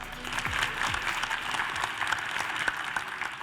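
Sustained crowd applause at a JROTC annual gala for the school district's brigade staff, a dense, steady clapping texture from a large audience, with a few sharper claps standing out close by.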